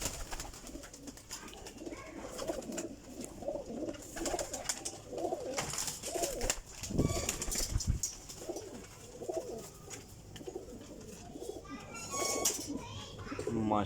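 A golden female pigeon coos in soft repeated bursts, with a sharp flurry of wing flaps near the middle. Small chirps and rustles fill the gaps, and the birds sound close.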